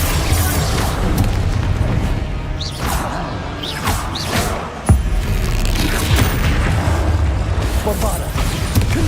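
Bombarda and Confringo spell explosions in the video game Hogwarts Legacy, heavy booms and whooshing blasts in a dense, loud combat mix, with a voice talking over them throughout.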